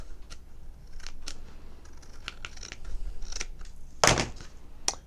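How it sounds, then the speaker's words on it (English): Scissors trimming card paper, a series of close crisp snips and slicing cuts, with one louder sharp cut near the end, no speech. "I'm just going to trim this off the bottom."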